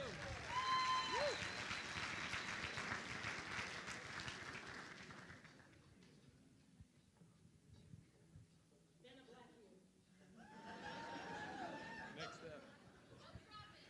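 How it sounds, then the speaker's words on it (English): Audience applause at a LIFT 2018 event, loud and sustained for the first several seconds, then fading into murmuring crowd chatter before a second, softer burst of clapping near the end. "Give him a round of applause, everybody."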